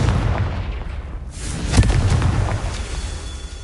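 A Confringo fire spell goes off in Hogwarts Legacy, giving a loud, rumbling boom with a sharp burst in the middle over a dense, continuous low roar of battle noise.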